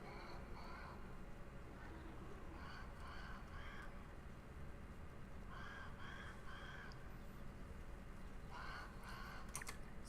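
In the video game Grounded, a crow caws in short bursts of harsh calls spaced across several seconds, fairly faint over a low constant background hum, with a few keyboard taps.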